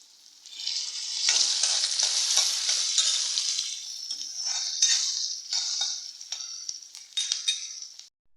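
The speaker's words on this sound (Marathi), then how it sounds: "कांदा चांगला परतून घेऊया। लसणीच्या 2 पाकळ्या घालतोय।" Chopped onion and two cloves of garlic sauté in a pan while the cook turns them, giving a bright, steady sizzle with scraping stir strokes and light clinks of the spoon.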